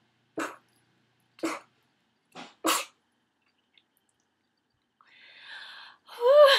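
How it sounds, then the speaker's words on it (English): A string of short, sharp nasal bursts, four quick sneezes or gasps spaced apart, followed by a brief hum and a voiced exclamation. "And I have to sneeze."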